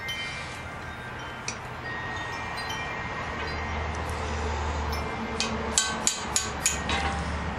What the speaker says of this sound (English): You just take a hammer and chisel and knock it out of there.